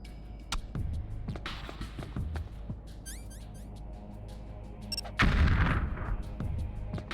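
5.56mm rifle gunfire in Metal Gear Solid: The Twin Snakes cracks out in scattered sharp shots, with a heavier, louder burst near the end over a low rumbling game background.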